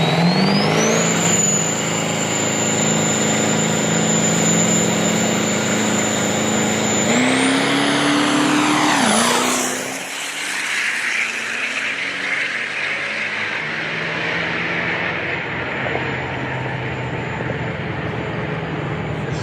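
A Duramax diesel truck and a Ford making a drag racing pass at a test-and-tune session, loud close engines screaming up through the gears, then a sharp pitch drop as they blast past and fade into a rumbling distance.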